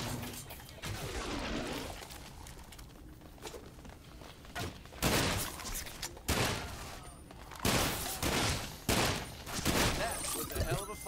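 Gunfire in the video game Sunset Overdrive, with repeated loud bursts of shots and impacts amid chaotic combat noise, interrupted by short gaps.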